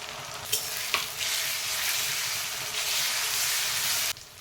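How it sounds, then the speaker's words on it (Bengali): Ginger-garlic paste goes into a pan of browned onions, spices and bay leaf, causing a loud, dense sizzle with a couple of clanks at the start before it cuts off abruptly. "এবার আদা রসুন বাটাটা দিয়ে দেবো।"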